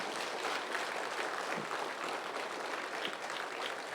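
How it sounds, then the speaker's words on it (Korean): A church congregation applauds in praise during a sermon, a full, even roar of clapping that holds steady for the whole stretch. "우리 하나님께 감사 영광의 박수."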